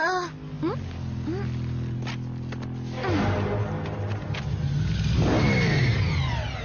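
A motorbike engine revs up and down several times, rising whines and growls, fairly close, with a louder rev toward the end.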